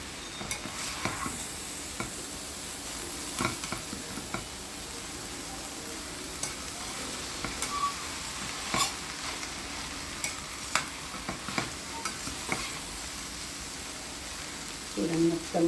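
Chicken noodles loaded with vegetables stir-fried in a pan over a high flame, a faint steady sizzle with scattered scraping stirs and clinks, under intermittent talking.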